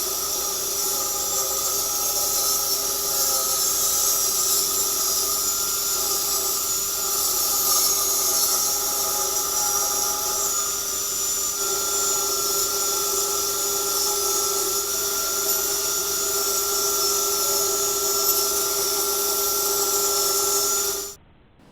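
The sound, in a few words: table saw cutting wooden planks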